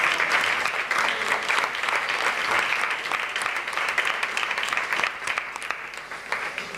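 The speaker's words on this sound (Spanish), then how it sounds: "Un aplauso." Steady, dense audience applause at a round-table discussion on surrealism, sustained at an even level for the whole stretch with no voices on top.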